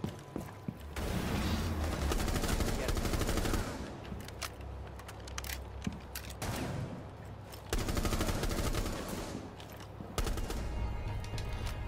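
AR-33 assault rifle fire in Rainbow Six Siege, long loud automatic bursts broken by short pauses, close and dense with no talking.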